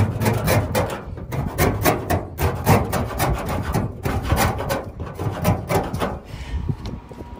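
Old paint is scraped off a vintage gas pump in steady rhythmic strokes, each pass a close, loud rasping scrape repeating for several seconds with no talk.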